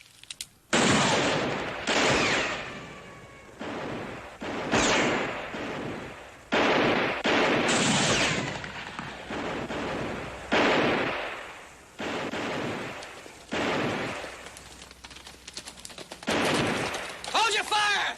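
Gunfire in a 1966 Western television drama: a long series of loud, rapid shots and volleys close by, crackling in bursts separated by short gaps over about eighteen seconds.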